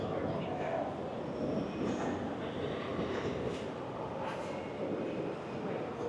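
A rumbling wash of rail noise fills a Medellín metro station as a train moves through, steady and moderately distant, with a faint squeal and someone talking over it.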